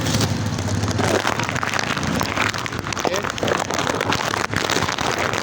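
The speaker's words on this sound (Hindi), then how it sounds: "बारिश हो गई" Steady, dense heavy rain pours throughout in Balochistan, a continuous hiss of drops hitting surfaces, with faint voices mixed underneath.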